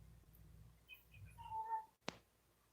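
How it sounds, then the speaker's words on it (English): A cat meows once in a drawn-out, wavering call somewhere in the Philippines, fairly faint and a little distant, followed by a sharp knock. No one speaks. "What is that? It's a cat. Do you hear that?"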